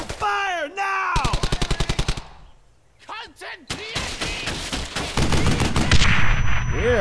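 Gunfire in the video game Brothers in Arms: Hell's Highway, with rapid bursts of shots, one sharp single crack and dense automatic fire building to the end, mixed with shouting voices and music.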